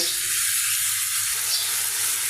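Steady frying sizzle of chickpeas being sautéed fills the clip, a constant close hiss with faint stirring underneath and no talking.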